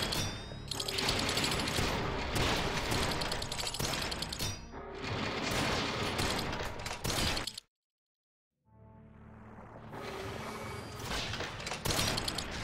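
A robot's chain weapon fires in rapid bursts in the video game Radio the Universe, dense clattering machine-gun-like fire in two long loud streaks, a brief silence, then the rapid fire resumes.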